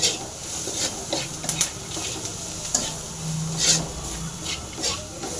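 Bitter gourd fries in a pan with tamarind, salt and spice, a constant sizzle broken by repeated scraping stirs of a spatula against the pan.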